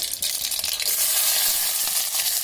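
Onion and garlic fry in tempering oil with a loud, continuous sizzle that briefly stirs and then settles into an even, close hiss, with no one talking.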